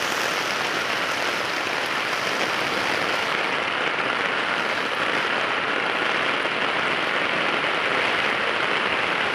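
Heavy rain pours down steadily during a flood in a rural village, a dense, even hiss of water with no break.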